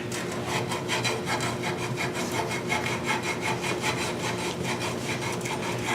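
Wooden scoop edges hand sanded with 80 grit sandpaper give a close, steady run of rhythmic rasping strokes, each a brief scratchy sweep, heard on their own without any talk.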